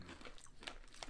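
Crunchy, hard wheat-based onion-flavored snack bitten and chewed close to the mic, giving a few sharp crunches over about a second with no talking.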